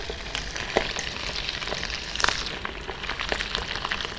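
Pork for crispy pork deep-frying in hot oil, a loud close continuous sizzle and crackle with popping spatters throughout.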